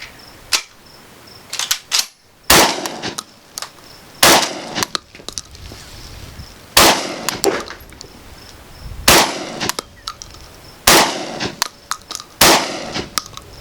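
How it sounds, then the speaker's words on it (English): Shotgun blasts from an American Tactical TacSX2 firing Suprema shells, about six loud sharp reports spaced a second or more apart in a slow, steady cadence, each with a brief metallic clack of the action between shots. "We'll pull the trigger a little slower this time, a little methodically, and see how it does."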